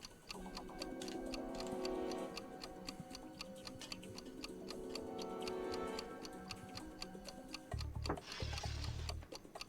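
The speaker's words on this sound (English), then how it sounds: "That's just an alarm clock. An alarm clock." A cheap alarm clock ticks in a quiet room in a film scene, a fast, even, close series of crisp clicks running over low background music, with a brief thud near the end.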